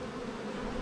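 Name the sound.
upset honeybees buzzing around a hive with pollen traps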